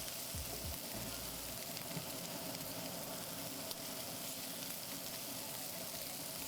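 Onions frying in a pan, a steady close hiss and crackle of sizzling fat that continues evenly throughout, with a few soft stirring clatters near the start.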